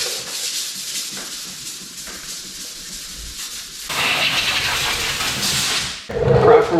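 A body panel of a 2020 Ford EcoSport is block-sanded by hand, producing close, continuous scratchy rubbing strokes that grow louder and harsher partway through.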